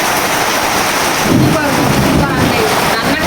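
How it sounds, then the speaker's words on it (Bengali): Heavy rain pours steadily during a storm in a dense, loud hiss that fills the whole stretch, with a low rumble of thunder in the background. "প্রচুর আকারে বৃষ্টি হচ্ছে এখন"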